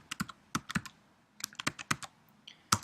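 A password is typed on a computer keyboard in irregular bursts of sharp, close key clicks, with short pauses between groups of keystrokes and no talking.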